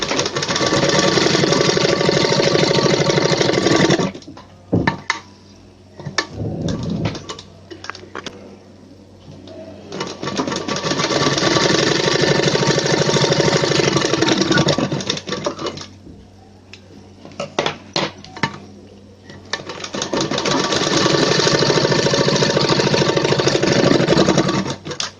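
Sewing machine stitching a sleeve seam, running in three long steady bursts of loud mechanical whirring separated by short pauses filled with clicks and fabric handling.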